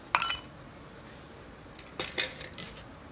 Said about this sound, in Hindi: सर्विंग ग्लास में हम पहले बर्फ़ डालेंगे